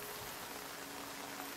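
Rain falls in the survival video game Nightingale, a steady, even hiss of soft drops on surfaces throughout, fairly quiet and with no voices.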